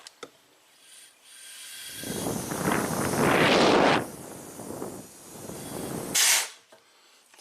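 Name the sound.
compressed air hissing out of a leaking car A/C condenser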